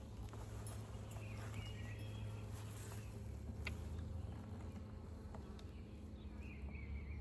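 Honey bees buzzing steadily at an open, crowded resource hive during a frame inspection, a dense continuous drone close by, with a few faint clicks and knocks from handling the hive.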